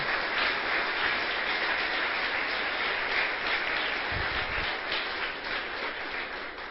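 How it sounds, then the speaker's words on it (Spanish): Church congregation clapping loudly together, a dense steady wash of applause sustained throughout and easing slightly at the end. "Denle un aplauso fuerte al Señor, pues."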